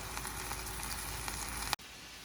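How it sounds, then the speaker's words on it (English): Ground beef frying in a pan, a steady dense sizzle close up that cuts off abruptly near the end, leaving a softer hiss. "while we're waiting on our ground beef to continue cooking"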